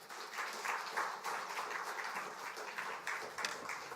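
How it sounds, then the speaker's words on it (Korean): A church congregation claps to welcome a pastor at a Sunday service, a sustained wash of many hands heard from a moderate distance, steady and fairly soft throughout. "박수로 환영해 드리겠습니다."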